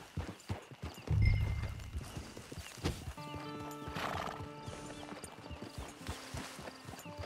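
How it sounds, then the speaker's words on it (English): Horse in the Red Dead Redemption 2 video game, with clip-clop hoofbeats and a clear neigh and whinny near the start, set over a game soundtrack with music and faint ambience. "It's your horse."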